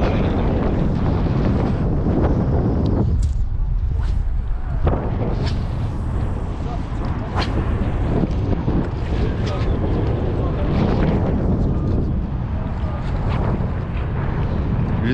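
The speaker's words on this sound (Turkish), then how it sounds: "Rüzgar var ya mahvediyor." Wind buffets the microphone in a constant low roar and rumble while salmon fishing near Trabzon, with a few louder gusts and thumps; a voice speaks now and then over it.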